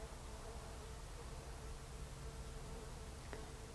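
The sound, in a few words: worker honey bees buzzing inside a glove gauntlet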